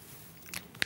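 A person bites into a freshly cooked omelet, with a soft chewing rustle followed by one sharp, close crunch near the end, quiet and without talk.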